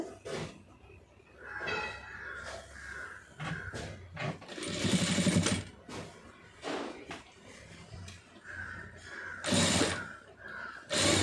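A sewing machine stitches rolled piping onto a blouse neckline, running in short bursts with pauses between, fairly close and clear, the mechanism thumping and whirring in uneven runs.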